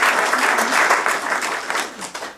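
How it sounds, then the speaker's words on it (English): Warm applause for a youth writing program at a literary event, a short burst of many hands clapping fairly loud and close, tapering off after about two seconds. "Let's give a round of applause for the program."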